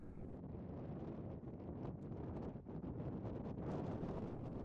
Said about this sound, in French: Le vent souffle en rafale.